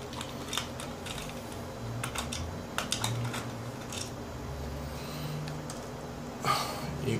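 A faulty Logitech computer mouse button clicks again and again in sharp, irregular taps, close up against a steady background hiss, with no talking.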